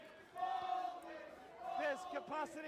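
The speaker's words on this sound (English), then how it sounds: "That crowd just getting on Drew" Wrestling crowd jeering and shouting at Drew during a match near a crossface finish, a dense roar of voices rising and falling with drawn-out boos and chants under the arena din.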